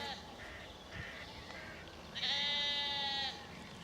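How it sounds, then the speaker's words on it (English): Sheep bleat nearby in a field between Teynham and Faversham, a couple of short calls followed by one long, loud wavering bleat, over quiet outdoor background. "As you can hear, I'm stood in a sheep field."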